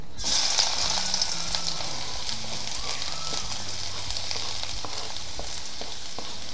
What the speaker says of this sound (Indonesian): Nah, ini udah cukup panas, kita masukin bawang merah sama bawang putih.